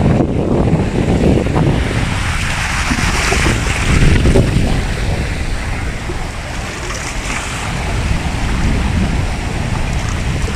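Wooden outrigger boat crossing the sea toward Isla Boreas, with a broad, roaring wash of water and wind noise, loud and continuous with no clear engine note.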